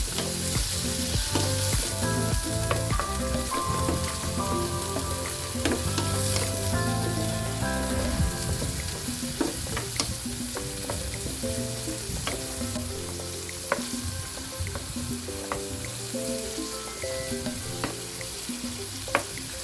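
Sliced squid sizzles and fries steadily in a hot pan, a dense continuous crackle with occasional stirring scrapes and clinks throughout, no talking.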